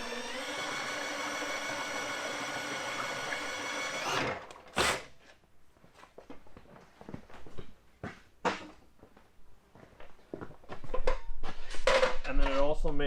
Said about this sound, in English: hook a drill up to it to mix up the primer